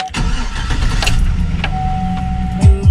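A car with 125,000 miles starts up nearby: a short cranking burst, then the engine catches and settles into a steady idle, loud and close with no talking.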